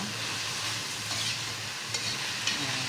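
Drained sprouted beans fry in a pan with a constant close sizzle, broken by a few soft scraping stirs of a spatula, with no talking.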